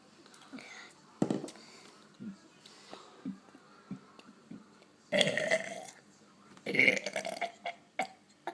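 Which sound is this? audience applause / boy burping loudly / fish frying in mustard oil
boy burping loudly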